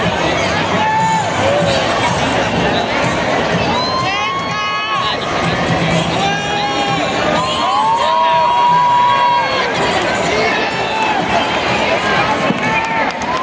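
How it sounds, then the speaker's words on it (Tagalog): A large crowd at a Miss Universe Philippines pageant cheers wildly and without pause: loud screams, whoops and shouts from many people at once, with babble mixed in and no single voice standing out. "crowd runs wild."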